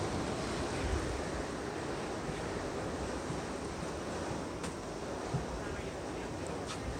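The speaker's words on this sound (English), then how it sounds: "You hear those wind gusts out there." Strong wind gusts roar outdoors during a tornado warning, a loud, continuous rushing noise with heavy buffeting on the microphone and no clear speech over it.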